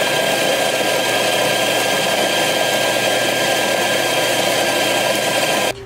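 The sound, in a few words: coffee grinder grinding coffee beans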